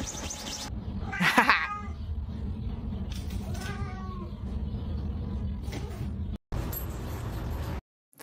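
A plump young cat meows loudly a few times, with drawn-out complaining cries close to the microphone over low background noise and a few rustling knocks.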